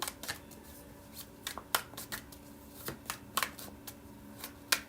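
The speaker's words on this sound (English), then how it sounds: "these need to be shuffled a little bit" Cards are shuffled and riffled in quick, crisp bursts of flicking and snapping, fairly close and soft, with no voices.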